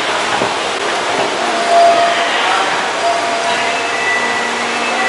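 An NJ Transit train pulls out of the Newark Airport rail station toward Penn Station, a loud steady rushing rumble with faint metallic squeals, heard from the platform with a murmur of voices beneath.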